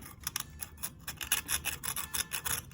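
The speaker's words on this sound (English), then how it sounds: "these are some new little sandpaper sticks that I just got in the other day. So we'll see how those work for inside here" A small sandpaper stick rasps quickly back and forth on sterling silver jewelry set with a Tiffany stone, close and faint, in a steady rhythm of short scratchy strokes.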